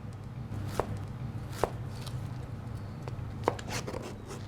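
A knife chops a yellow chilli on a board in three sharp, separate strikes spaced about a second apart. The cuts sound close and crisp over a low, steady kitchen hum.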